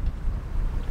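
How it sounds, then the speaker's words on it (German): Steady wind buffeting a microphone outdoors on a sailboat in the Mediterranean, a low rumbling roar with no other clear sounds, constant over a brief moment. "Es ist ein bisschen windig."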